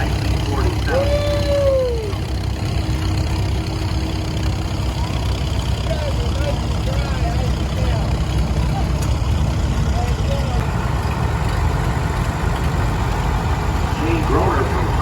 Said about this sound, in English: Another built in later style WF, and Rich Hanson driving it around the corner.